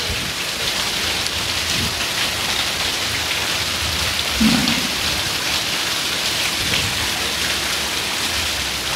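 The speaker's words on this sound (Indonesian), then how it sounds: "Kita lihat hujan di depan rumah, terang sekali bos." Heavy rain pours steadily in front of a house, a dense continuous hiss of drops on surfaces throughout, with a faint low rumble midway.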